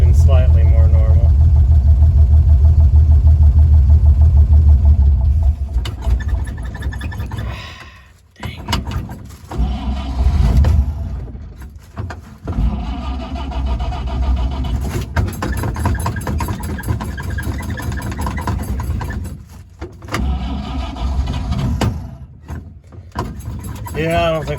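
A 1953 Chevy truck's engine runs loud and close, a rough idle that dips and sputters at times as it struggles to keep running, with intermittent mechanical clunks.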